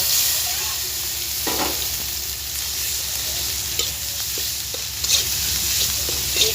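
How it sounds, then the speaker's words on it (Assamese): Spice paste sizzles and fries in a pan, a steady hiss with occasional clinks and scrapes of a spoon stirring, close and moderately loud. "দি পেলাই ভালদৰে এইখিনি ভাজি ল'ব"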